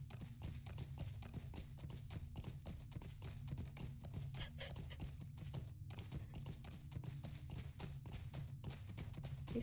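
Horse hooves in the Lord of the Rings Online video game, a rapid, even clip-clop of a running mount, steady and moderately close throughout with no talk.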